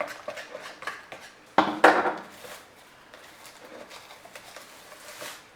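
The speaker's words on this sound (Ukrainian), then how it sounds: "І тепер все перемішую." Spoon scraping and clinking against a bowl while a thick challah dough mixture with flour is stirred, with one louder clattering burst early on, then quieter irregular scraping.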